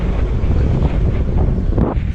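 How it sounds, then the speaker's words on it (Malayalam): Strong wind batters the microphone on a rocky, exposed path, making a loud, continuous rumbling roar that barely varies for a couple of seconds. There is no talk over it. "കാറ്റ് മൊത്തം അടിച്ചോണ്ടിരിക്കുക."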